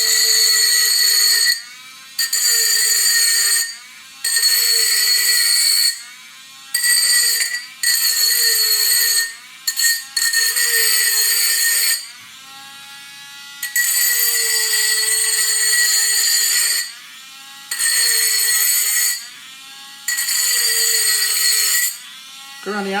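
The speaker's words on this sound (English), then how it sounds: "we're just gonna take a Dremel tool, or if you have a file, and we're just gonna sand down the edges on it so no one gets cut" A Dremel tool sands the cut edges of an empty tequila glass bottle with a high, whining grind that starts and stops in about a dozen bursts, each lasting one to three seconds, with short pauses between them. The sound is close and loud, with no talking over it.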